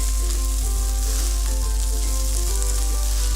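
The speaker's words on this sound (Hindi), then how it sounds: "और अब हम इन्हें फ्राई कर लेते हैं।" Whole spices including cinnamon and cumin fry in a pan for a tandoori chicken curry, giving a loud, steady sizzle over a strong electrical hum, with no speech.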